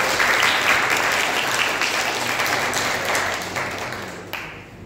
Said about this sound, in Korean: 우리 축복의 박수를 좀 할까요?